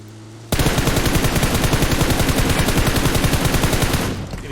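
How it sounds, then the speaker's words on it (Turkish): Rapid automatic gunfire in the shooter game PUBG Mobile, a loud close burst of evenly spaced shots lasting several seconds that starts abruptly and tails off at the end. "aşağıdan evet atış yapıyorlar"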